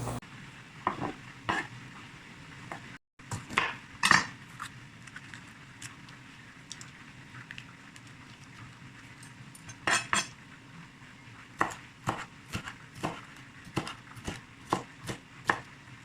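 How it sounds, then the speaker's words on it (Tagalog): A knife chops garlic and onion on a board in short bursts of quick, sharp taps, with pauses between runs and a faint background hum. "hihiwain ko naman yung mga bawang, sibuyas at saka yung atsal"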